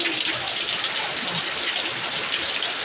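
Heavy rain pours without letup, a dense, even hiss of water close by, with no breaks.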